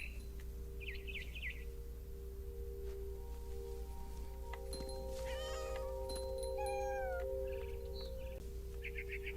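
A cat meows in the video game What Remains of Edith Finch on Xbox One, giving a few drawn-out, falling cries in the middle. Scattered bird twitters and a low, steady ambient drone run underneath.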